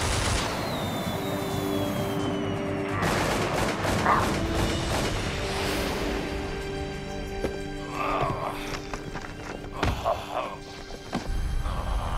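Gunfire in an animated episode, a few sharp shots ringing out amid hoofbeat-like clatter, a whinny and busy action effects, fairly loud and close with no voices.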